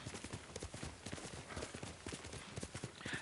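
Horse hooves clip-clop in the video game Ghost of Tsushima, a steady rapid rhythm of close hoofbeats continuing throughout at moderate volume.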